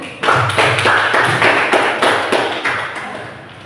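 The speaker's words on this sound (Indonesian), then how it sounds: "Mari kita beri tepuk tangan untuk kelompok 1." Group applause in a classroom teacher-training session for the first group, a short burst of sharp, close, fairly loud hand claps lasting a few seconds with no talk.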